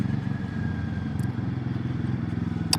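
Royal Enfield Guerrilla 450 with the liquid-cooled 450 Sherpa single-cylinder engine, running at a steady close-up idle with a low, even throb and faint clatter throughout.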